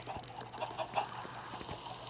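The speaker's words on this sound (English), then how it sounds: "Come back chickens." Chickens cluck softly in the Lokicraft video game, short repeated clucks in an uneven rhythm over a quiet background.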